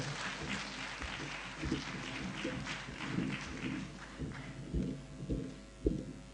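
Audience applause at a Hindi poetry gathering (kavi sammelan) for Valmiki Jayanti: a steady mass of hand-clapping that runs throughout, with irregular louder bursts rising out of the dense crackle.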